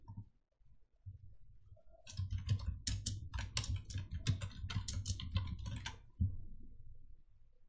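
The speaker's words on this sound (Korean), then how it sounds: "적용을 하신 다음에 타이핑을 해주실게요." Rapid keystrokes on a computer keyboard, typed for a word-processing or presentation exercise, come in a quick irregular burst of clicks over a low room hum, close but fairly quiet, with no talking.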